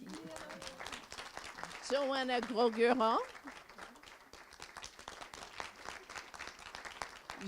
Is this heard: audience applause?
yes